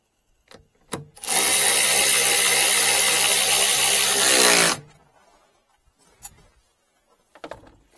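A power drill backing out seatbelt screws inside a Ford F-150 extended cab runs in one loud, steady burst of about three and a half seconds, framed by faint clicks and handling noises before and after.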